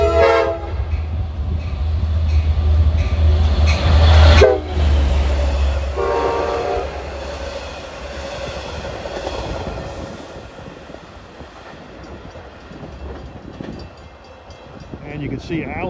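A diesel rush-hour commuter train bound for Port Jefferson passes close and loud at New Hyde Park, sounding its horn in strong blasts with a heavy engine drone before the noise fades away. Faint voices come in near the end.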